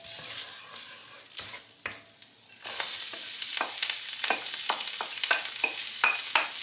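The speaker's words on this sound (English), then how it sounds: "I'm going to saute this for a good 10 minutes until the shallot is gonna cook and become translucent." Chopped shallots with a bay leaf sauté in a pan: quieter stirring at first, then a sudden louder steady sizzle broken by repeated clinks and scrapes of a utensil, no speech.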